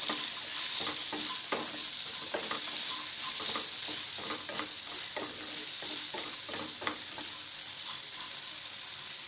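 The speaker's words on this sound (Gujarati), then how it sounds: "હવે આની અંદર બટાકાના ભાગનું મીઠું ઉમેરીશું ભેળી લઈશું" Potatoes and salt are stirred in a hot pan for poha, giving a steady, loud sizzle of frying. Repeated scraping strokes of the spoon run through it, close up and with no talking.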